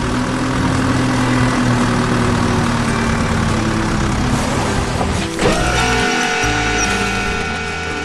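A heavy green crawler excavator's engine rumbles steadily at a construction site, a loud, continuous low drone with faint mechanical clanks near the end.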